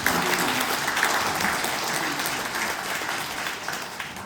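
Audience applause at a Christian forum hosting an Asan mayoral by-election candidates' debate, a steady wash of many hands clapping indoors, fairly loud and sustained throughout, slowly easing toward the end.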